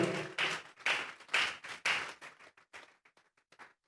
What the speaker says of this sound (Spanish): Vamos a darle una ofrenda de palmas a Dios dentro.